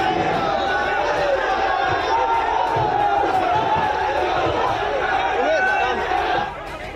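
An agitated crowd rampages outside an old tomb in Fatehpur during a temple-mosque dispute, a loud, sustained clamour of many voices with shouts and battle cries rising over the din.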